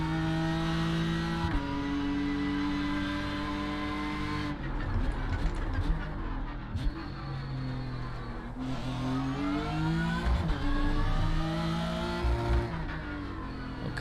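BMW M4 GT3 race car in the iRacing game, its engine droning loud and close as it revs through the gears, with sharp shifts and pitch drops between pulls.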